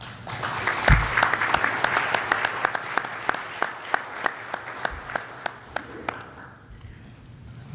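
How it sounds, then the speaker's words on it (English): An audience at a board of directors general session applauds, a steady wash of clapping with sharp individual claps that thins and fades toward the end. "I'm going to consider that you guys were applauding for me too"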